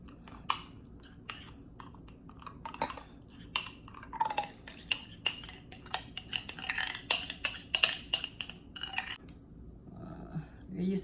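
A spoon clinks and scrapes against a bowl while milk and yeast are stirred together for soft bread rolls, irregular close taps and scrapes that grow busier toward the end.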